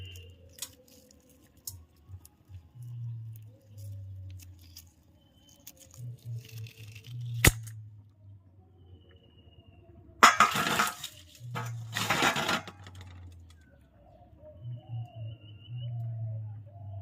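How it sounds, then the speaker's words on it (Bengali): Boiled eggs being cracked on all sides and peeled, heard as sparse small taps and clicks with two bursts of crisp crackling shell, close and quiet, beside a low intermittent hum. "ডিমগুলো চারিদিক থেকে ফাটিয়ে নিয়েছি, কত সুন্দর ছাড়িয়ে যায় দেখো শোনো"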